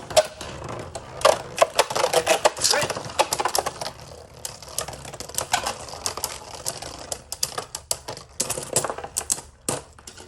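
Beyblade tops Lord Spriggan and Bushin Ashura spin and clash in a plastic stadium, giving dense rapid rattling and sharp ticking impacts, loud and close, with a voice talking now and then.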